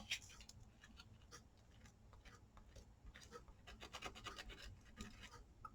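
Faint, steady rasping of sandpaper worked over the raised numbers of handmade faux metal tags, quick scratchy strokes repeating close up in a quiet room.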